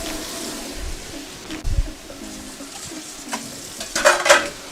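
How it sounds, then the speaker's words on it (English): Onions frying in a wok give a low, soft sizzle with a few dull knocks and clinks of a utensil against the pan, and a brief brighter clatter near the end, close and quiet, with no talking. "those are my onions going in"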